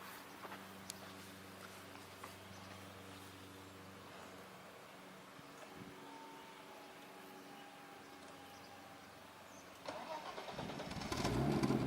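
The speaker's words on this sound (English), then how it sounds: "I just started it cold, so that's my fast idle you're hearing" A 1991 BMW 325i convertible with a Garrett turbo and water-methanol injection runs at a steady cold fast idle after starting, a low droning hum that swells into a louder rush near the end.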